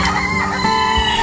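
Broiler chickens released outdoors, clucking and crowing steadily over a dense, continuous farmyard din, fairly loud and close throughout.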